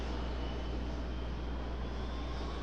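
A passenger airplane landing at Raleigh-Durham (RDU) airport: a steady, broad engine roar with low rumble that holds evenly throughout, moderately distant, with no voices.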